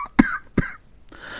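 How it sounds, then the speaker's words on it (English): Two sharp coughs close together, followed a moment later by a short raspy throat-clearing breath, from a man with a winter cough, close and fairly loud. "You're gonna be hearing a lot of coughing from me."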